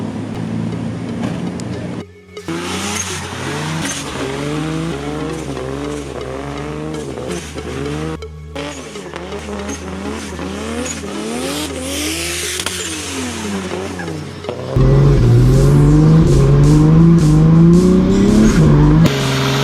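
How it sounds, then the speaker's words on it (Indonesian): A Nissan 240SX drift car making about 800 wheel horsepower drives hard, its engine revving up and down through repeated gear changes, loud and close, rising to a heavier, louder roar near the end. "langsung kita coba aja kekuatan mobil ini dan rasanya naik mobil ini seperti apa saat ini"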